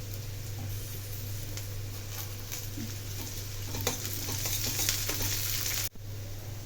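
Garlic paste and plenty of curry leaves frying in a pan for spiny gourd curry, a continuous close sizzle with faint crackles and a brief sharp cut-off near the end, no voices.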